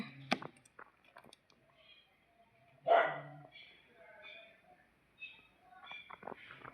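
A dog gives a few short barks and yelps amid household sounds; people talk nearby, and the barks are intermittent and moderately close.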